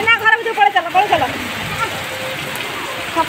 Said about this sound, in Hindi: प्रबल वर्षा